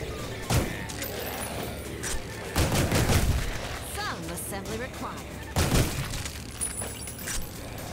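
Sharp bursts of shattering and gunfire-like blasts as a window explodes in the game Ion Fury, with three louder impacts spread across the clip over busy background noise.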